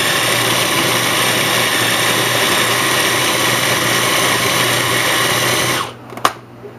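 A blender mixes cooked sausage stuffing for stuffed mushrooms, a loud steady whirring motor drone that runs without a break for about six seconds before cutting off abruptly, with a small clatter after it stops.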